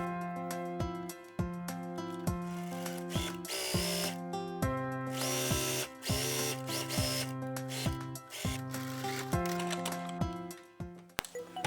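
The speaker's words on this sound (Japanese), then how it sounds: "ポケットの底を縫います。" Sewing machine stitching across the bottom of a shoulder-bag pocket, a steady rapid mechanical whir in bursts with brief pauses between runs, close and clear with no talking.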